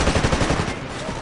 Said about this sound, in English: Oh, I love how the weapons sound.